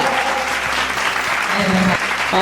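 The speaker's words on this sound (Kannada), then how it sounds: "ಎಲ್ಲರೂ ಚಪ್ಪಾಳೆ ಚಪ್ಪಾಳೆ ಜೋರಾದ ಚಪ್ಪಾಳೆ" An audience at a school annual day function applauds, dense sustained clapping filling the whole moment, loud and close, with voices mixed underneath.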